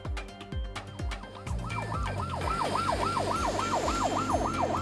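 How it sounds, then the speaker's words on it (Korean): A Korean coast guard high-speed boat chasing a large Chinese fishing vessel at sea sounds its siren, a loud, rapidly rising and falling wail that repeats steadily over a low engine rumble. "우리 해경의 고속단정이 대형 중국 어선을 향해 사이렌을 울리며 쫓아갑니다."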